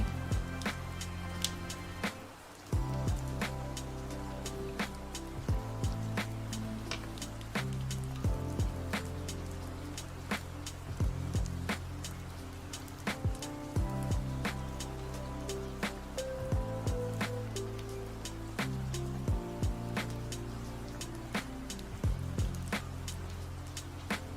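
Steady rain pours throughout, a dense even hiss with scattered drop taps and a faint background hum, no talking.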